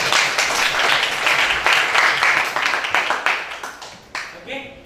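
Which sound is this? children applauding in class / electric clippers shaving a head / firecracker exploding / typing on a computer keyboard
children applauding in class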